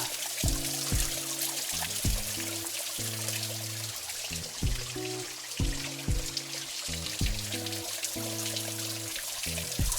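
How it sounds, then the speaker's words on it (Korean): Water trickles and splashes steadily into a garden koi pond, with sustained musical tones playing over it throughout. "물소리가 아주 좋은데요, 그죠?"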